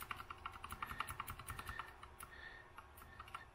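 Keys clatter on an Azio Retro Classic mechanical keyboard in a quick, close run of crisp clicks that slows a little toward the end, with no voices.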